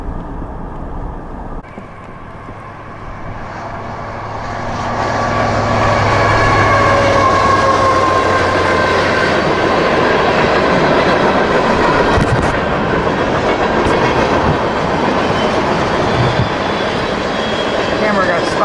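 Train passing during a New York blizzard, a broad rumble that swells after a few seconds and then holds steady and loud, with faint rail clatter in it.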